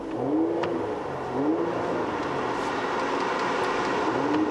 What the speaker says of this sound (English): there is a button here to fire up the engine